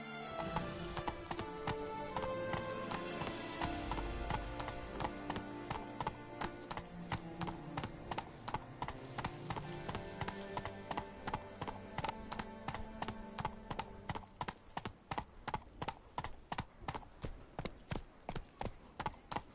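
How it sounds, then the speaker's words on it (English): Horse hooves clip-clop steadily in The Witcher 3: Wild Hunt, a loud, evenly paced trot heard up close with a brief whinny early on and game music underneath. "Whoa there, Roach"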